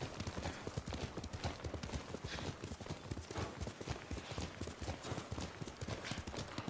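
Horse hooves clip-clop in a steady, rapid rhythm from Yuriko's horse in the video game Ghost of Tsushima, a continuous quiet patter of hoofbeats over a soft outdoor ambience.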